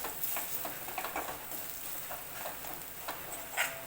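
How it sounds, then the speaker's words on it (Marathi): Brinjal curry masala frying in oil, a soft steady sizzle with light irregular spatula ticks and scrapes close by, with no speech. "तर असंच मी आता पाच मिनटं आता भाजून घेते"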